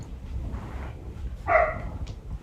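A dog gives one short, clear bark over a low background rumble, with a fainter yip earlier.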